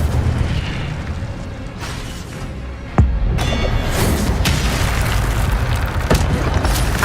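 An Incendio fire spell cast in Hogwarts Legacy, a sudden sharp burst followed by a rushing, roaring whoosh of flame over a busy game-sound bed, loud and close, with no talking.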